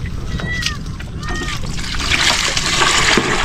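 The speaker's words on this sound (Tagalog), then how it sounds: "Lagyan ng tubig." Water is poured and splashed, giving continuous sloshing and trickling that grows louder and busier toward the end, with brief tonal chirps and voices mixed in early on.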